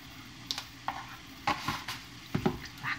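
Sauce of dark soy sauce and white sugar stirred in a pan, a few soft scraping strokes and light clinks spaced out over a faint background hiss, close and fairly quiet.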